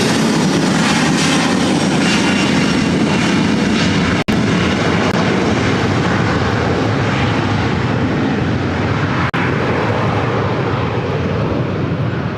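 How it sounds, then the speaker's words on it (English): Qatar Airways Airbus A350-1000 arriving at LAX from Doha, its steady broadband engine roar loud and sustained throughout, with two brief sharp clicks and no talking. "Next arrival is Qatar Airways Flight 739 coming in from Doha on the A350 1000."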